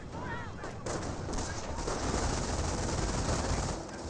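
Gunfire in the World War II strategy game Company of Heroes: a Volksgrenadier squad under fire from an engineer, with loud, continuous rifle and machine-gun bursts and explosive rumble packed densely together.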